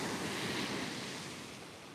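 Ocean waves at a beach on a clear day, a broad, steady wash of surf that slowly eases in loudness, mixed with some wind buffeting on the microphone.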